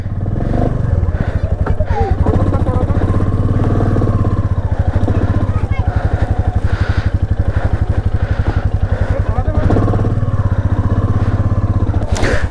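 A Royal Enfield Meteor 350 motorcycle engine runs steadily close by with a dense, even thumping pulse and no pause throughout, while a person talks over it.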